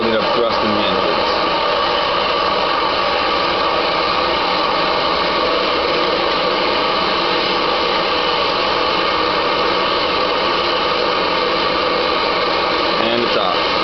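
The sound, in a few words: jet engines building up thrust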